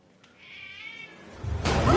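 A single drawn-out cat meow, close and clear, followed by a burst of broadband noise.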